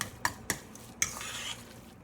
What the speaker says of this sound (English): Give it its final mix